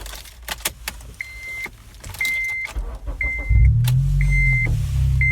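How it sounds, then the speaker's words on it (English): A Honda Civic Si engine cranks and fires up close by, settling into a deep, rumbling idle from an Invidia N1 catback exhaust after a few clicks and chimes. "So the exhaust is now on. Let's hit you with the first start up."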